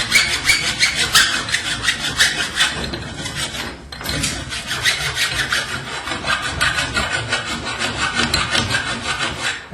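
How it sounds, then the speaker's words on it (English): Hand file rasping burrs off a garage door spring shaft, rapid repeated scraping strokes in a steady rhythm, close and fairly loud, with a brief pause midway. "File the burrs off the shaft."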